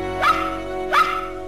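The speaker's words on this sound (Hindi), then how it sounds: "इतनी तेज मत भौंको वरना मॉम यहाँ पर आ जाएंगी।" Two sharp barks from a dog in a Hindi-dubbed Doraemon cartoon, evenly spaced about a second apart, loud and close with no talk over them.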